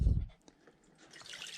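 Water drips and trickles off a Moebius Seaview model submarine as it is lifted out of the water, starting with a low splash, then sparse small drips and a faint close trickle, no talk.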